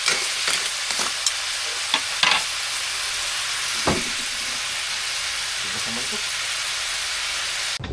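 Freshly caught seafood frying in a pan gives a steady, close sizzle and crackle throughout, with a few sharp pops and stirring clatters near the start.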